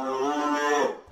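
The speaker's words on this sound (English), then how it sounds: "This one is actually just a moo sound." A downloaded cow moo sample: one loud, sustained, harmonic bovine moo lasting about a second, heard alone and clear before it trails off.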